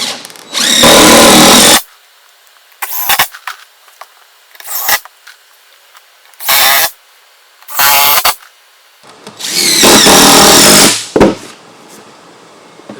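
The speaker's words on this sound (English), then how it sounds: "So screw this piece in real quick, and then we can trim up the edges" A power drill driving screws to fix a boardwalk board in a tropical greenhouse deck build, heard in several close, loud whirring bursts of varying length separated by short pauses, with no talking.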